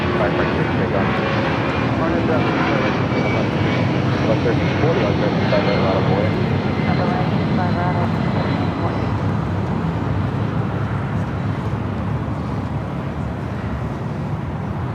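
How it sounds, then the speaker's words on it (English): Boeing 757-200 jet rolling down the runway on takeoff at LAX, a loud continuous engine roar heard from a distance throughout, with someone speaking over it. "An old TWA 757-200, now rolling down 25 right."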